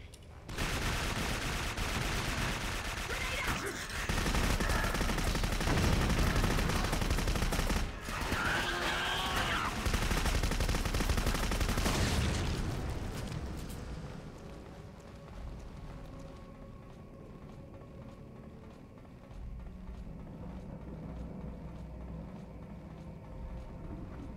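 Dense gunfire and grenade blasts in the video game Clive Barker's Jericho, a loud sustained barrage for about thirteen seconds that fades into quieter rumbling battle ambience.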